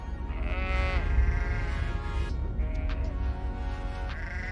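Sheep bleat loudly and close by, several drawn-out wavering calls that overlap one another, with a low rumble of background noise beneath them.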